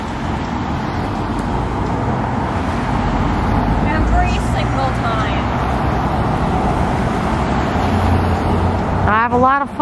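Cars pass on a road in a steady, loud traffic roar that fills the scene throughout, with faint chirping sounds rising briefly over the rumble.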